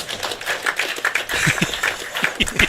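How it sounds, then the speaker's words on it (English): Crowd at a bowling tournament clapping after a strike, scattered uneven claps that grow denser partway through, with sharp nearby claps over a busy hall. "And a pretty good round of applause"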